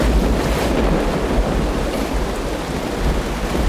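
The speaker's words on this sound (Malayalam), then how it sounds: "നല്ല മഴ." Heavy rain pours in a dense, loud, continuous wash, with deep thundery rumbling throughout and no voices.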